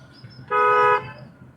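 A single short car horn honk, loud and close, over low road rumble.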